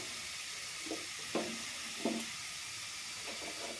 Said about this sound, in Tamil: கொஞ்சம் ஸ்லோ ஃபயரில் கொஞ்சம் வறுத்துக்குங்க கடலப்பருப்பு